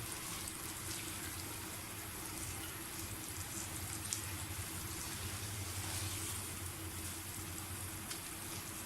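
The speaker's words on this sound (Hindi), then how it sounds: "अब इस मौके पे आप थोड़ा सा पानी डालें इसमें" Water is poured into mutton chops masala simmering in a pot for a street-style mutton chops gravy, making a soft, steady splashing and hissing that stays faint and continuous, with no voices.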